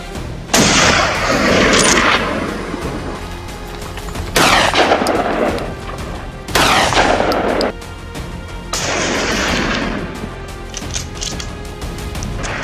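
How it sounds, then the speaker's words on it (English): Rifle shots ring out during a wild boar hunt, four loud sharp blasts spaced a couple of seconds apart, each with a long rolling echo and no voices. "I raised my weapon and fired."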